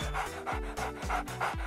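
A dog pants in quick, rhythmic breaths, loud and close, with about six even in-out cycles and no talk.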